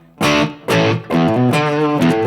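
Electric guitar chords struck three times, each ringing out with a light reverb tail and a slightly gritty tone, played through a Line 6 POD Go.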